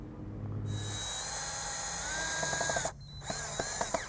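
A cordless drill whines at high speed, driving a screw through a metal bracket on a high tunnel greenhouse frame, then briefly stops before short bursts and ratcheting clicks finish the job, close and loud.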